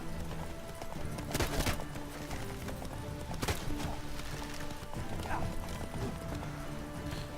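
Rhythmic hoofbeats of a horse galloping in The Witcher 3 video game, steady clip-clop under a continuous game soundscape, fairly quiet with no talk.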